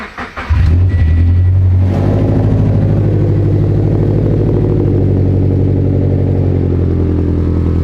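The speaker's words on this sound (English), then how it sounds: "Let's go start up the FRS." Turbocharged Toyota FRS engine cranking and firing up through an aftermarket exhaust, then settling into a loud, steady, droning idle with a deep rumble, close by and with no talking.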